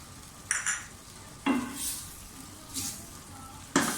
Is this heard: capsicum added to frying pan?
yes